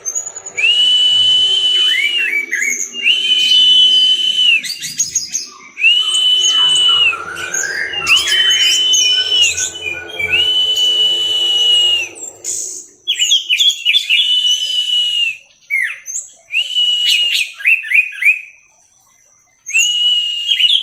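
A forest flycatcher sings loud, clear whistled phrases and rapid chirping trills, repeating in bursts with short pauses, close and prominent.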